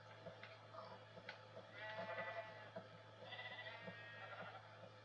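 Sheep in Minecraft bleat in several short, wavering calls, closer together and louder in the middle and end, over a steady low background hum with no talking.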